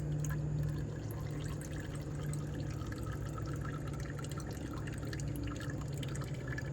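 Oil drips and trickles steadily into a catch container during sawmill engine maintenance, a close, continuous patter of small drops over a low hum.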